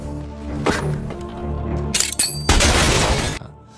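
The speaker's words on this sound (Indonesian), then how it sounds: "motor itu tiba-tiba ngebeleduk karena telah dipasangi granat oleh si John sebelumnya." A grenade blast bursts out with a shattering crack as it destroys a motorcycle, followed by a loud, noisy roar of debris that fades away, set against a droning background.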